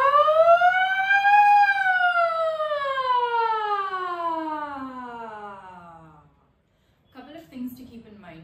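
A single voice glides up and then slowly down in pitch on a sustained vowel, imitating a siren, followed by a brief pause and a short spoken phrase.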